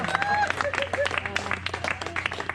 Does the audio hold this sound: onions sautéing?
no